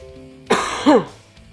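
A single throat clearing followed by a short cough, close and fairly quiet, alone with no talking.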